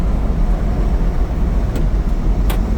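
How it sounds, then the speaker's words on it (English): A Daihatsu mini truck pulls uphill in fifth gear, its engine and road noise forming a steady, loud, close drone from inside the cab, with a couple of faint clicks near the end and no talking. "Now we are in 5th gear and we are pulling the hill here."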